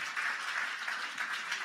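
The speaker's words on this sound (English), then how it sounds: "So I want a big applause for everything that has been said today" An audience at a Lisk blockchain meetup in Berlin breaks into applause, a brief, moderately loud patter of many hands clapping together.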